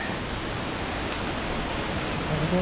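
Steady, broadband rush of the Kroke E-Dok waterfall in Saraburi, Thailand, a continuous hiss of falling water filling the scene without pause, with no voices over it.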